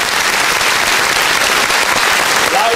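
A talk show studio audience claps for the host's guest, a sustained, loud, even burst of applause filling the whole stretch with no voices on top.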